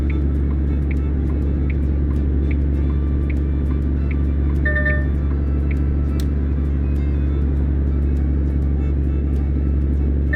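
Heavy truck hauling a 50,000 lb load of steel up a highway on-ramp, a loud, steady engine drone and road rumble throughout, with a few faint tonal beeps over it.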